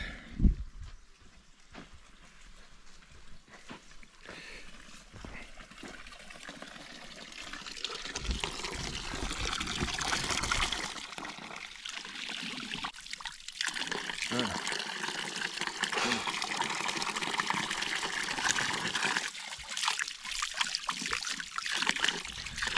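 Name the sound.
water trickling at an off-grid cabin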